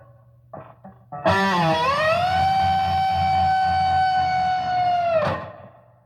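A loud, sustained distorted pinch-harmonic squeal from a Sterling by Ernie Ball JP60 electric guitar with a decibel boost, rising pitch bend, holding steadily for several seconds before cutting off.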